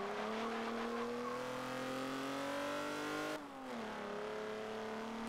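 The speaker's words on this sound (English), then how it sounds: "Actually sounds quite nice, this limo, to be fair." A Cadillac limousine engine in Forza Motorsport 7 revs steadily upward, a loud close drone climbing in pitch, then briefly drops off near the middle before settling back into a sustained higher-pitched roar.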